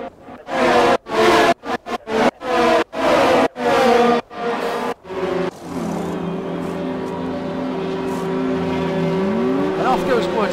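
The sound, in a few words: F1 race cars driving into the pit lane, F1 2020 video game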